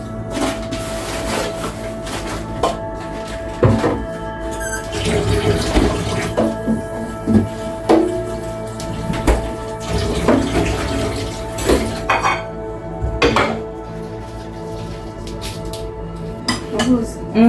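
A kitchen tap runs while dishes are washed, with steady water hiss, scattered clinks of plates and cutlery, and intermittent louder knocks. People talk nearby over it.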